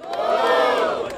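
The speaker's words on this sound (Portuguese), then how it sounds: "Muito barulho para as rimas do pequeno!" A hip hop battle audience in Piracicaba roars for a young rapper, a loud sustained burst of crowd shouting and cheering that swells and holds.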